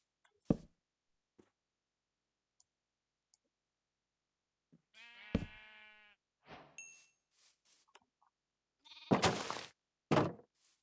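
A single bleat from a sheep in Minecraft rings out mid-clip amid sparse clicks and dings of game sounds, followed by a few short bursts of noise.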